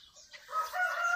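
Chickens and a rooster inside a barn, with faint clucking giving way to a louder crowing call in the second half, heard near and alone without talk.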